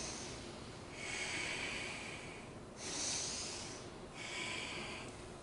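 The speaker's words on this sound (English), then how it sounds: "Right now, we can take few deep breaths." Three slow, deep breaths, each a soft airy rush of inhaling or exhaling, faint and close, separated by brief quiet gaps.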